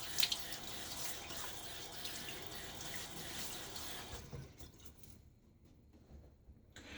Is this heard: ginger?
no